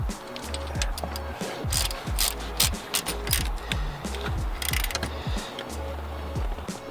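A ratchet wrench tightens the water pump pulley on a Jeep Grand Cherokee, with rapid clicking pawl strokes in repeated bursts, close and loud, alongside metallic clanks from the engine bay.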